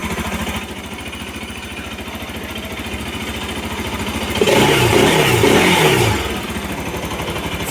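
A Bajaj Rouser NS 200 FI motorcycle runs again after a new fuel pump is fitted, with a close, steady idle. About halfway through it revs up briefly and loudly, then drops back to idle.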